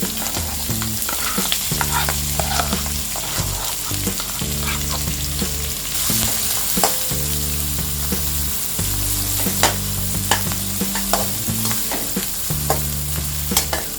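Chopped onions with cumin and asafoetida frying in hot oil give a constant, close sizzle with scattered crackles and stirring clicks. Background music plays prominently over the frying the whole time.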